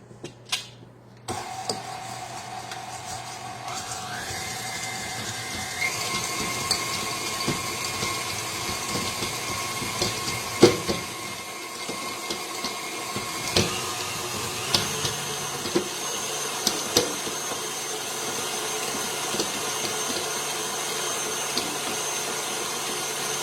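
An electric mixer creams sugar with half-softened, half-melted butter for chocolate chip cookie dough, giving a steady motor whine with shifting pitch and small knocks of the beaters against the bowl, close and continuous with no voices.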